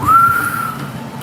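A person gives one short, clear whistle that rises briefly and then holds a steady tone, close and fairly loud against a faint murmur of background noise.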